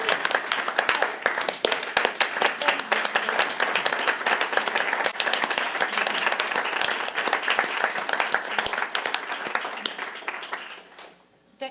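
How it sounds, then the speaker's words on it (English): Audience applause at an OUC commission meeting, a steady dense clapping from a roomful of people sustained for about ten seconds before tapering off to silence. "I don't know if we can applaud."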